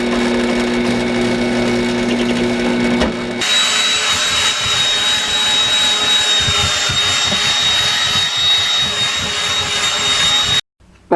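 A shop vacuum cleaner roars steadily and loud while sucking up carbon fiber dust from sanding a carbon fiber plate backer, starting with a motor whine, then a sustained broadband rush before cutting off abruptly near the end.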